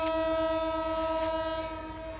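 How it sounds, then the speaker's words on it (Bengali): A Rupsha Bangla Express train coach being shunted is dominated by a loud, sustained train horn blaring close by, steady and unbroken, fading slightly toward the end. "আমাদের কোচটাকে সরিয়ে নেওয়া হচ্ছে"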